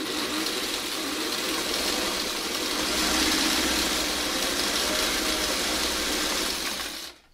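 A sewing machine runs steadily while stitching quilt fabric pieces together, a continuous close mechanical whir with a fast even hum that stops abruptly at the end.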